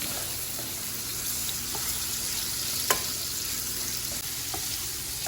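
Ground meat for spaghetti sizzles and fries steadily in a pan, a continuous close crackle with a few small pops and scrapes, no voices.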